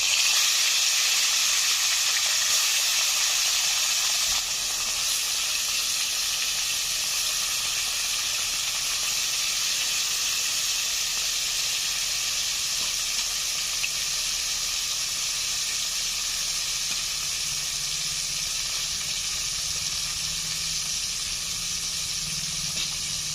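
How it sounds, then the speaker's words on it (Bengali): Rohu fish pieces frying in plenty of oil in a wok, a loud, dense, unbroken hiss and sizzle that holds steady throughout, heard close with no talk. "মাছগুলো ভাজা হচ্ছে"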